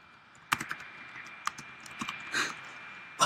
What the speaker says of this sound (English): we should probably keep talking while Dan's typing